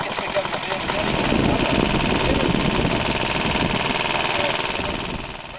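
An antique engine runs at a Crank Day machinery show in Colebrook, chugging in a steady idling rumble with a faint knocking texture, while a voice talks over it.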